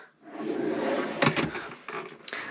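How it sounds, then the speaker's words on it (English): A kitchen drawer in a 1975 Volvo C304 6x6 truck camper slides open or shut with a long rolling rumble, followed by a couple of light knocks and clunks nearby. "Over here, this is the snacks drawer"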